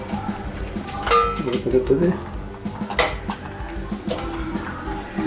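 A spoon scrapes and knocks against a metal pot while stirring thick millet sweet pongal, irregular clanks and grinding over a background hum, with a voice in places.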